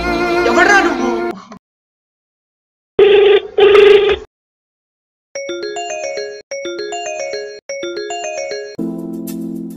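A mobile phone ringtone plays three times in repeated bursts, each a bright electronic melody of tones, following earlier stretches of speech and a short loud noise.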